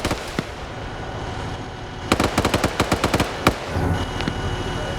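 Rapid gunfire rattles at a BRDM armored vehicle in a military video game, a loud burst of closely spaced shots over a steady background of battle noise, with a few isolated pops before it.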